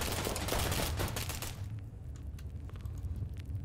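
Gunfire in the game Intruder, with a player shooting a teammate: a loud, dense burst of rapid shots that cuts off after about a second and a half, leaving scattered fainter pops.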